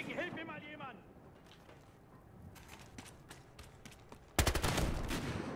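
Gunfire in Battlefield Hardline during a Conquest match, scattered shots through the middle, then a loud burst of rapid blasts close by near the end, with a voice talking early on.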